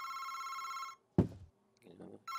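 A telephone rings in the video game August Night, a steady electronic bell tone repeating at the start and returning briefly at the end, broken by a short thud and faint movement in between.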